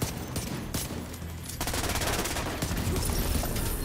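Sustained automatic gunfire from a boss fight in the shooter game Tom Clancy's The Division 2, loud and continuous with dense rapid bursts that intensify after the first second and a half.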